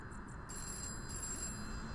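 A telephone rings inside a video game, heard as short, quiet repeated trilling bursts over a low steady background hum.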